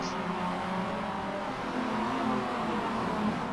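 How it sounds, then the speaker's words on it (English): Race cars in a roadster series accelerate out of the pit lane, a steady moderately loud engine drone with overlapping motor tones that swell and fade slightly across the stretch. "we've got cars leaving the pits now"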